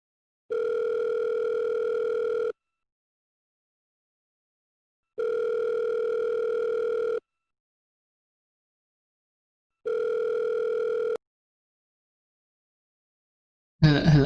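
Phone ringback tone after dialing a call, three evenly spaced two-second tones separated by long silences, clean and alone, followed by a brief burst of sound at the very end.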